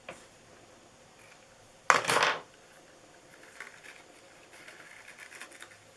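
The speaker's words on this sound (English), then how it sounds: "I'm going to cut my ribbon" A single quick snip of scissors through ribbon for a handmade paper gift box, a short close bright cut that then falls quiet with faint handling afterward.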